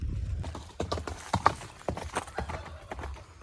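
A horse's hooves clip-clop in close, irregular steps, with several sharp knocks and scuffs spread across a few seconds.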